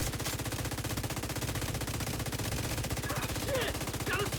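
Rapid automatic gunfire from the player's weapon in a shooter video game, a fast, even stream of close, loud shots with faint game sounds at the end.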